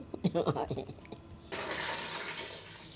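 Water gushes steadily as red amaranth greens are rinsed, following a short stretch of a person talking.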